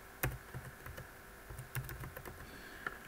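Keystrokes tapped out on a computer keyboard while settings are entered into a software plugin, a quick irregular run of close clicks with short pauses between bursts, no voices.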